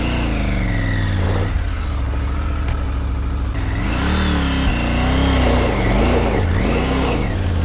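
A Triumph Tiger 900 Rally Pro motorcycle engine drones steadily, then rises through several loud, close revving surges as it accelerates, with constant wind rush.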